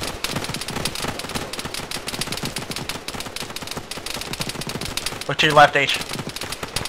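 Rapid automatic gunfire in a military shooter video game, continuous bursts running throughout with a louder blast near the end, while a voice speaks briefly over the shooting.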